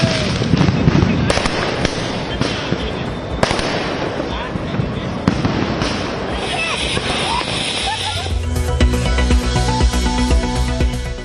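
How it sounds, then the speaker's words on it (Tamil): Diwali firecrackers and fireworks in Tamil Nadu burst in dense, loud crackling volleys, with sharp pops scattered throughout. A voice talks over the noise. "புத்தாடை உடுத்தி பட்டாசுகள் வெடித்து மக்கள் மகிழ்ச்சி."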